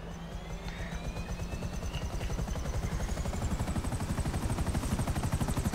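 Rapid rhythmic rotor chopping of a helicopter in GTA 5 Online grows steadily louder and faster-pulsed, with a whining tone overhead and no talking.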